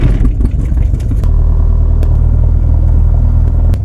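Small single-engine airplane engine cranking and catching, then settling into a loud, close, rough rumbling idle with a rhythmic clatter from the running propeller engine.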